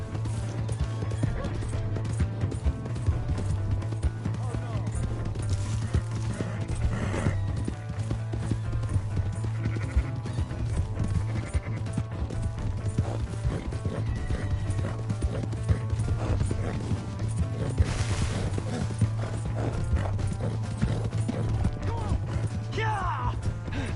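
Hooves of a galloping horse in the video game Red Dead Redemption, a continuous rapid clip-clop rhythm over a low steady drone, with brief bursts of other game sounds.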